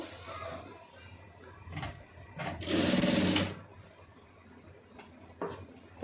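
A sewing machine joins a seam on a plain blouse in short, stop-start bursts, with one louder sustained run of about a second near the middle amid quieter mechanical clatter.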